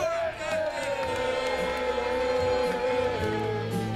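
A wrestling crowd cheers and whoops at Gene Money's entrance while his entrance music plays loudly, with a commentator talking over the steady roar of the crowd.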